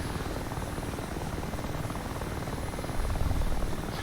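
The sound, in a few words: Mi-8 Hip helicopter rotor in video game DCS World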